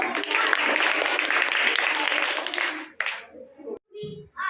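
A group clapping together in a classroom-style cheer, a dense burst of claps lasting a few seconds and then stopping, followed by brief speech.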